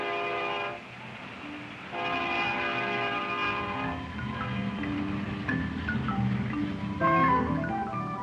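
A freight train locomotive sounding its horn in long sustained blasts, loud and steady with a rumbling undertone, the horn breaking off briefly and resuming several times.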